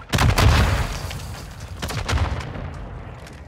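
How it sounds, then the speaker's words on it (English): Mortar strike in Call of Duty Warzone 2 on Ashika Island: a loud close blast opening the clip, then a second thudding impact near the two-second mark, with rumbling booms fading between them and no speech. "Our mortar strike is inbound."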